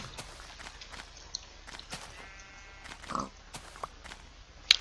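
A Minecraft pig grunts and oinks in a few short bursts amid blocky in-game footsteps and occasional sharp hits, fairly quiet overall.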